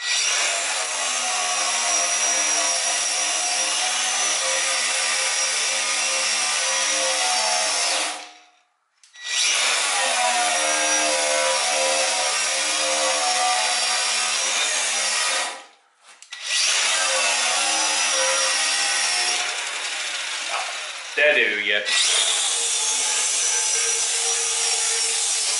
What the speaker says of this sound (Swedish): Ja, vi slipar lite.